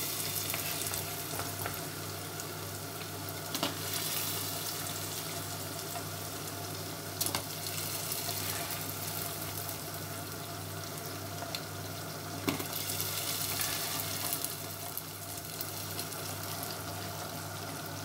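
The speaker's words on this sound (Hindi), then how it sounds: "अब हम डालेंगे पकोड़े" Pakoras frying in hot oil, giving a continuous soft sizzle and bubbling with occasional stirring clicks, steady and fairly faint, with no voices.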